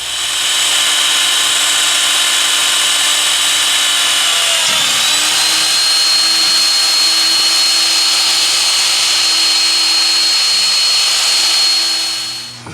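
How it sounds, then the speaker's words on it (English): A magnetic drill runs with a loud, steady high whine during work on a railroad project, its pitch dipping briefly partway through before settling back and winding down near the end. "So now break out the mag drill."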